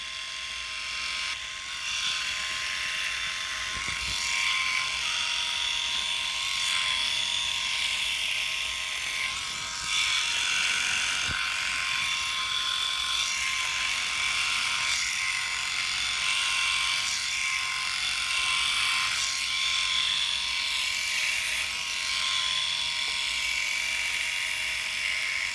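A Philips i9000 electric shaver moves over stubble in gentle circular motions, giving a steady, close, high-pitched buzz that hums on without a break and with no talking.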